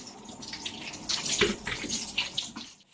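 Running water from a tap splashes over green chillies and garlic held beneath it while they are washed, near and moderately quiet, with irregular bursts of spattering.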